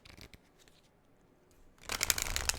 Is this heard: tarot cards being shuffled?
yes